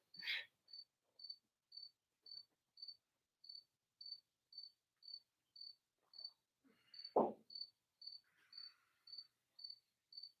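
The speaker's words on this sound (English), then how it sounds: "The biggest inconvenience I got is a cricket outside that won't shut up." A single cricket chirps outside near a garage on a mild 70-degree night, giving short, evenly spaced chirps about twice a second, fairly faint, with one brief rustling noise partway through.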